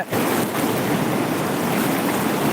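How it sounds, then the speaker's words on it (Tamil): Flood water surges under the Sevveri stream bridge in a village near Tittakudi, roaring like sea waves: a loud, close, continuous rushing wash with no talk over it. "கடல் அலைகளை போல சீறி கொண்டு பாய்கிறது பாருங்க"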